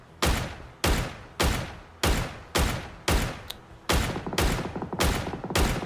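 Video game gunfire in PUBG rings out in a steady series of loud, evenly spaced shots, about one every half second, each with a ringing tail.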